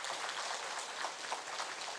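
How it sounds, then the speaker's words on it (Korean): A congregation at a Sunday worship service gives encouraging applause, heard as a soft, even wash of many hands clapping in a large room, with no talking. "그분들을 위해서도 우리 격려의 박수 합니다"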